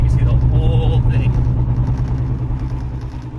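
Engine of a modified BMW E46 M3 CSL floored at full throttle while the car jerks from lean fuel, a loud steady low drone heard from inside the cabin with a voice talking over it.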